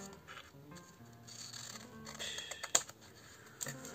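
Scissors snip through a scrapbook page in a few quiet, irregular cuts, with soft paper handling and small clicks around them.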